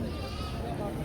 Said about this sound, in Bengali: আজকে 28টা ছাগল নিয়ে আসে।